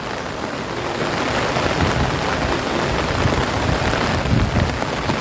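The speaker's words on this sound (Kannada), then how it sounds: "ಅಷ್ಟು ಜೋರು ಮಳೆ ನೋಡಿ" Heavy monsoon rain pours down beside a flooded river in coastal Karnataka, a dense, steady, loud hiss of water with no voices.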